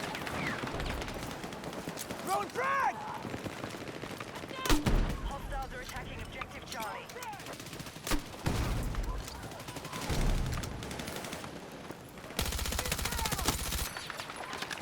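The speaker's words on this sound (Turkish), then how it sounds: "Abi kort çok güzel silah ya." KORD 6P67 heavy machine gun in Battlefield 6 Winter Offensive, firing in repeated sustained bursts with sharp loud cracks between pauses, over game ambience and battlefield effects.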